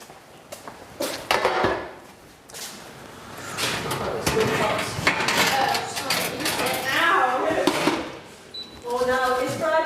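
Crispy tortilla nachos clatter and rustle onto a big plate with brittle scraping and a few knocks against the dish while a person talks over it.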